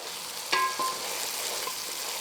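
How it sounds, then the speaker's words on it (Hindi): Masala fries in a pot (patili) for mutton nargisi kofta, a low steady sizzle with a sharp utensil clink near the start and a softer knock just after. "फिर भूनेंगे, ताकि बहुत ही अच्छे से इसका मसाला भुने।"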